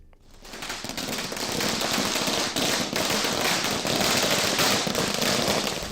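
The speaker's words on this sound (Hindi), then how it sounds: "भोजशाला के सामने आतिशबाजी करते ये लोग हिंदू संगठन के हैं।" Dense, rapid crackling bursts of firecrackers going off continuously, loud and close, with no pauses throughout, set off in front of the Bhojshala.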